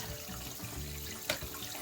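Water rushes steadily into a toilet tank that had been overflowing, refilling toward its set level, with a brief sharp click partway through and no talking.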